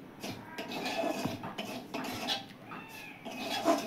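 Semolina stirred in ghee in a pan, faint scraping and light clinks of a spoon against metal in quick irregular strokes, with a soft high squeak partway through.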